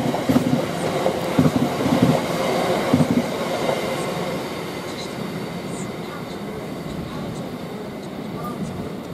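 A freight train hauling aviation fuel for Heathrow passes through Imperial Wharf, its rumbling wheels loud and close at first, then easing to a steadier, fainter roll.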